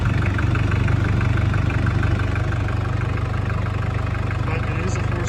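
A Mitsubishi Pajero 2800 four-cylinder diesel that sat unused for years idles steadily and a little shakily, with a loud, constant low clatter and no break.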